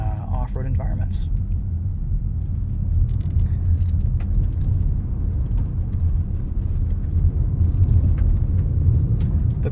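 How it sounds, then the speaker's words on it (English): A 2023 Mazda CX-50 2.5 Turbo AWD in off-road mode drives over rutted dirt with some wheel spin. Its steady low engine and tyre rumble rolls on continuously from inside the cabin, with faint knocks from the suspension. "you can really see what this Mazda CX-50 can do in off-road environments"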